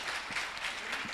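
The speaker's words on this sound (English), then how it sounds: "You ladies and men really know how to clap." An indoor audience claps steadily in a brief burst of applause.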